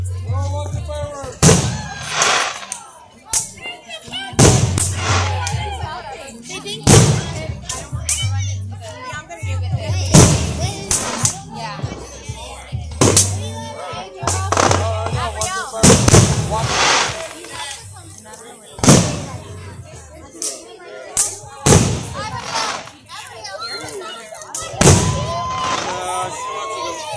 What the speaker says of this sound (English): Go watch the fireworks.